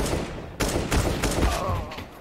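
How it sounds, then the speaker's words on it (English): Gunfire from an AK rifle in a Counter-Strike: Global Offensive match at a major esports tournament, a dense burst of loud, close shots running nearly continuously over a couple of seconds. "Good round from Jax with this AK."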